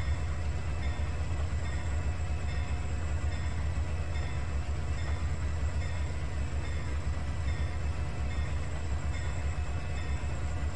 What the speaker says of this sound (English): It's the mixed freight on Canadian National coming from the east.